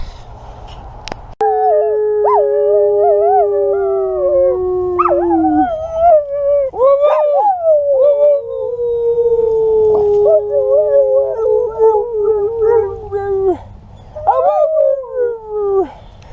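A female dog howls in long, wavering, sliding tones for most of the stretch, with brief pauses and rising yelps near the end, loud and close.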